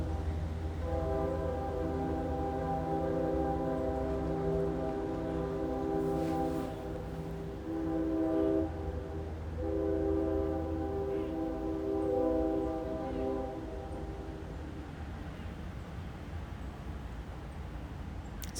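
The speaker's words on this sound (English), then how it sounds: "that is another train." A train passes with a long, blaring horn over a low rumble, sounding twice before the noise fades away.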